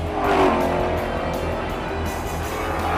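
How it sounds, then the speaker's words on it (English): Late model NASCAR stock cars racing at Irwindale racetrack near Los Angeles, a steady roar of engines at speed with a pass swelling briefly near the start, heard from trackside. "At this late model NASCAR race, Todd Burns, in black car number 4, is in the lead."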